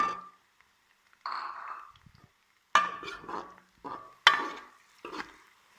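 Ginger-garlic paste fries with golden onions in a pot for a palak chicken dish. Short bursts of stirring and scraping, each with a brief sizzle, are separated by near-silent gaps, and about six strokes sound close by.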